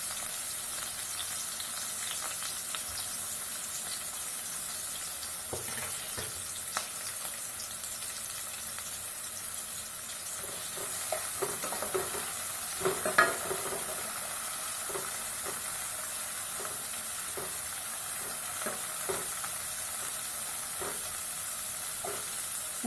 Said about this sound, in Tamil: வதக்கிறதுக்கு வெறும் வெங்காயம் மட்டும் நல்லா போட்டு வதக்குவோம்.